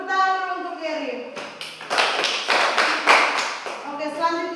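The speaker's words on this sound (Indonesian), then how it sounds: "Tepuk tangan dulu untuk Gary." A classroom of students breaks into a burst of clapping for a classmate, several seconds of brisk, close applause, with a teacher's voice speaking just before and after it.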